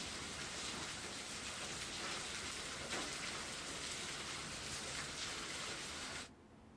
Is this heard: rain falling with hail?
yes